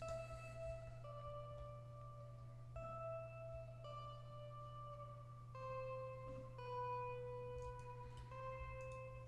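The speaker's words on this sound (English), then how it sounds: "I decided to add another guitar to kind of fill out that space" An added guitar layer in a guitar sample plays quiet, sustained single notes that step between pitches in a slow, even melody over a constant low hum.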